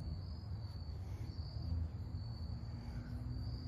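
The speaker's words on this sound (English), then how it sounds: "I hear crickets, though." Crickets chirping outdoors, a continuous high-pitched trill holding steady at low volume over a faint low hum.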